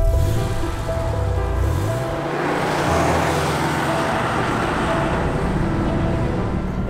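A 964-generation Porsche 911 Turbo, the air-cooled rear-wheel-drive flat-six with a five-speed gearbox, drives on the road. Its engine note rises through a gear and then settles into a constant loud rush of engine and road noise.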